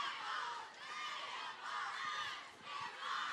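A lively crowd at a Florida Southern versus Tampa women's lacrosse game, sustained shouting and cheering that rises and falls in waves, fairly distant and moderately quiet.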